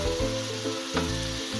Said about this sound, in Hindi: अब ये सारी चीज़ें शामिल करके मसाले को अच्छे से भून लेना है